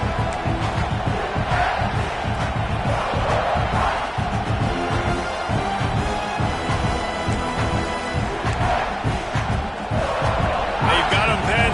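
Stadium crowd roaring steadily throughout a College Football 26 game between South Carolina and Georgia, a dense, loud wash of cheering and noise with no pauses.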